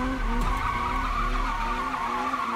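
A car drifts in a Need for Speed racing game during a drift trial, its tires squealing steadily over a droning engine. The sound holds fairly even and moderately quiet for a couple of seconds, with no talking.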